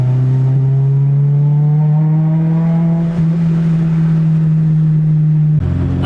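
A car running on an E85 ethanol blend pulls hard at full throttle, its engine note a steady loud drone that climbs slightly in pitch, then cuts off abruptly near the end.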